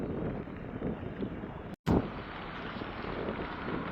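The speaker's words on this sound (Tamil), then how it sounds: "நல்லா காற்று அடிக்குது" Strong wind in Jaffna during a sudden heavy rainstorm roars as a steady broadband rush buffeting the microphone, cutting out abruptly for an instant midway before resuming just as loud.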